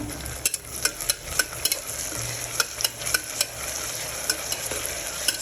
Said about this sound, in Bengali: আমি আদা রসুন জিরে বাটাটা দিয়ে দেব এটা ভালো করে ভেজে নিতে হবে